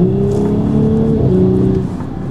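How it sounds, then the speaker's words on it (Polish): Audi S5 in Dynamic mode with the gearbox in S, its engine held above 2000 rpm and revving loudly up close, with a few faint exhaust pops before the revs drop near the end. "Delikatne strzały z wydechu"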